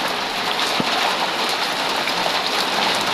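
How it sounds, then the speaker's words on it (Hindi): Very heavy rain pours down in a continuous loud hiss, dense and even, with a single faint knock early on and no voices. "बारिश बहुत तेज हो रही है, बहुत ज़्यादा बारिश हो रही है।"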